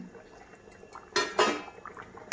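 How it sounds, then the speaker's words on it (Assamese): Fried fish slides into a pot of simmering greater yam curry in two quick, clattering splashes against the metal, followed by soft bubbling and one last light knock. "এতিয়া মই এই মাছখিনি ইয়াত লাহেকৈ ঢালি দিম, ভাজি থোৱা মাছখিনি"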